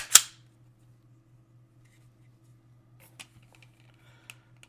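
A Killer Innovations Velocity trigger on a Glock pistol is pulled against a trigger gauge, one sharp crisp snap at the start followed by a few faint small clicks and handling taps in a quiet room.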